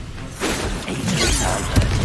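A Bombarda spell exploding in Hogwarts Legacy, a loud booming blast with crashing, whooshing debris and a sharp thud near the end, continuous and dense for about two seconds.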